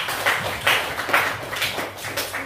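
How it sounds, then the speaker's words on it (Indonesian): A group of people claps hands in a classroom-like setting, a steady patter of moderate claps repeating in bursts for a couple of seconds. "Oke, kasih tepuk tangan."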